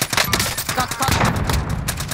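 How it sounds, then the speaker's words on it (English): Rapid video-game gunfire, dense overlapping bursts of shots at a steady loud level with a brief dip near one second, no talk. "Incoming rounds!"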